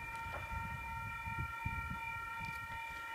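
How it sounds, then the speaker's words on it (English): A Sydney Trains V-set intercity train approaching through Wondabyne, a low rumble with steady tonal hums and whine, heard at a moderate distance with no talking. "We have a train approaching"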